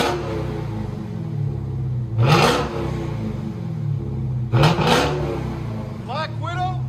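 A Dodge Challenger Hellcat with its 6.2L supercharged Hemi and Angry Housewife exhaust revs hard in two loud bursts over a steady idle rumble, with people talking nearby.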